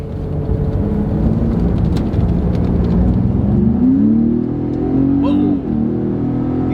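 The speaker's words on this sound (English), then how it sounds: "All right, so we're getting on the freeway here." Ford Raptor pickup truck accelerating up a freeway on-ramp, its engine droning steadily and rising in pitch as it gains speed, loud and continuous from inside the cab.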